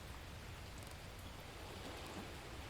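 Rain in the video game The Last Plague: Blight, a faint, steady wash of falling rain with no breaks or other sounds.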